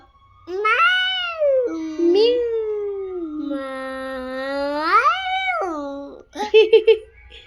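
A child imitates a cat, drawing out long wavering meows one after another, ending with a few short quick squeaks.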